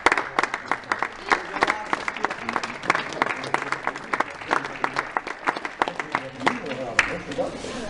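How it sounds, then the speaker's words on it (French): Scattered, distinct hand claps from a small group at a gathering after a Challenge Jo Sampere 2013 race event, irregular and fairly close, with people talking underneath. "je vous applaudis parce que vous méritez ça"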